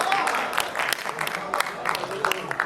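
Audience applause at a Hindi-Urdu poetry recital, a steady spread of many hands clapping through the whole stretch, moderately loud and close, with scattered voices mixed in.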